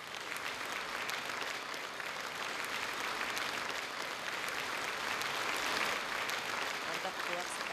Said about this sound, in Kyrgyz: сиздерди кол чаап койсоңуздар деп суранып кетем